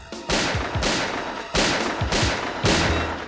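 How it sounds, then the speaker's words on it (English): A flurry of gunshots in a gang shooting: four loud, sharp blasts at irregular intervals, each trailing into a rumbling echo that lingers until the next shot cracks out. "A flurry of gunshots."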